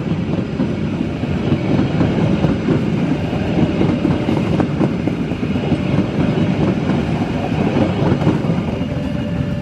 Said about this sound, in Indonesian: Kereta api Cikuray sudah melintas langsung stasiun Pasir Jengkol.